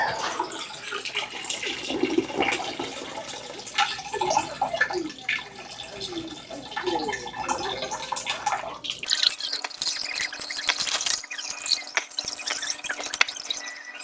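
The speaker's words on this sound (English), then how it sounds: "And then once it's done dripping, I'm going to stick it over in my cooler." Water drips and drains from a bubble hash bucket bag after the plant material has been washed. There are fast, close, irregular patters and trickles, and the flow shifts to a thinner drizzle partway through.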